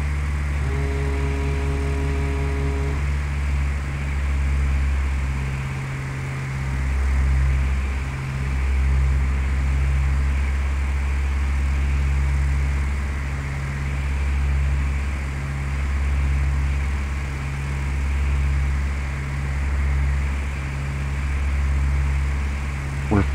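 A propeller airplane engine droning steadily in flight in Microsoft Flight Simulator 2004, a loud continuous hum with slow swells in level, heard alone with no talk.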